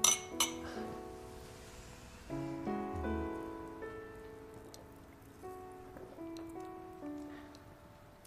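Glasses clink together in a toast, several bright ringing taps at the start and more light chimes scattered through, fairly close and clear.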